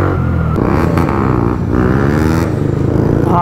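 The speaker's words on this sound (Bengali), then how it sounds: "আজকে মেবি আমার লাস্ট এই ফুল হাই বিট এক্সজস্টের সাউন্ড" A Yamaha R15 V3 motorcycle with a loud full high-beat exhaust rumbles close by, a steady throbbing beat with slight swells in revs over a few seconds, heard alone without talk.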